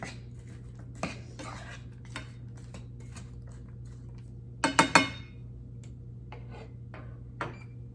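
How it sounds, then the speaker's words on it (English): Vegetables heating in a hot pan being stirred, sparse clinks and scrapes of a utensil against cookware, with a brief cluster of louder clatters midway over a low steady hum. "I'm going to scoot over here and just stir my vegetables as they're continuing to heat up over here."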